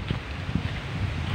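Gusty wind buffeting the microphone on the Mt. Tarak hiking trail, a steady low rumble with small bursts of rustle and no talking.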